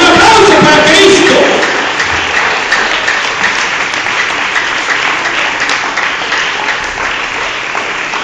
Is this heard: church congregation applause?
yes